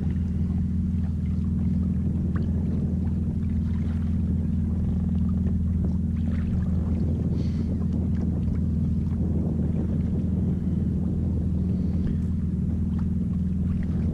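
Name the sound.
boat on the water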